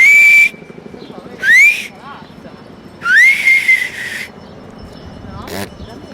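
A person whistles in short, high, sliding bursts, three or four separate notes with gaps between them, close and clear, with faint rubbing and room noise underneath.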